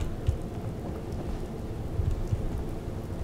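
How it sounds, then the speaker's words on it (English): Steady rain hisses throughout, with a few low thunder rumbles rolling in at a distance, no voices, in the video game Fallout 4. "Oh god, it's raining."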